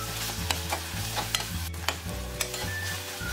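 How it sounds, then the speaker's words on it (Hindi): Tomato and onion frying in a pan for a black chickpea chicken curry, a steady close sizzle broken by regular scraping stirs of a spatula, no talk. "अब जो टमाटो लिया वो ऐड कर देती हूँ और अच्छी तरह से फ्राई कर लेती हूँ"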